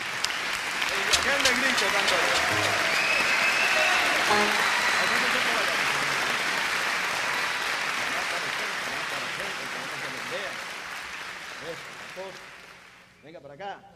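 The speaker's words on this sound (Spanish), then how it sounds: "aplauso para los niños." Sustained crowd applause for children at a 2008 concert, with a steady roar of clapping and voices that builds and then fades away near the end.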